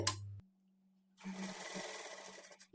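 After a short thump and a pause, a sewing machine runs steadily for over a second, close and clear, double-stitching along a pleated sleeve.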